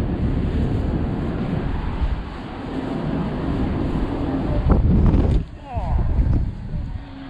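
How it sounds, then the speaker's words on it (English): Gusty wind rumbling and buffeting the microphone at a metro station in Kyiv, Ukraine, with a brief voice and some clattering near the end. "It is windy."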